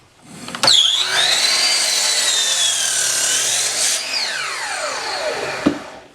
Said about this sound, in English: Then I'll cut the other bevels here on the chop saw.